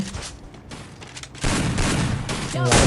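Gunfire in the mobile battle game Free Fire breaks out in loud, rapid bursts of shots that grow denser toward the end, close and harsh.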